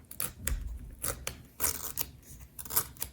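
Paper ripped in half by hand along a line lightly scored with an X-Acto knife, for a Hobonichi Cousin weekly planner spread; several short, close tearing bursts with brief pauses between them, no voices.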